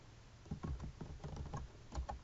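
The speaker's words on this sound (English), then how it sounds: "So I'm going to type Transfer" Keys tapped on a computer keyboard while entering a budget transfer description, an irregular run of about a dozen close, quiet clicks over about two seconds.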